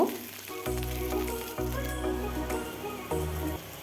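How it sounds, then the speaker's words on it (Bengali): Small mola fish frying in hot oil in a pan, giving a steady close sizzle with crackling pops and a few soft clinks of a utensil, and no one speaking. "মাছ ভাজা হয়ে গেছে নামিয়ে নেব"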